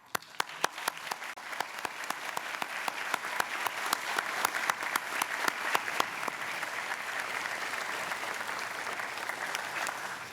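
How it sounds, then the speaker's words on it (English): An audience at a university graduation ceremony applauds the graduates, starting with sharp, distinct claps that swell into sustained, dense applause filling the hall before easing slightly. "join me once again in applauding these graduates' achievements"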